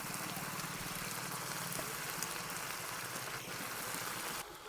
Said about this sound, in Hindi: अब इसमें डालेंगे हम सबसे पहले पानी